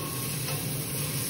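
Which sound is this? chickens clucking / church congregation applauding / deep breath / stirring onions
stirring onions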